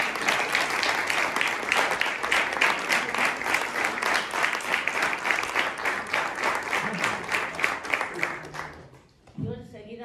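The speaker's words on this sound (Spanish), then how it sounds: "Un aplauso para ella." An audience at an evening book event applauds, with dense and even clapping that runs strong for about eight seconds and then fades out, followed by a little room noise.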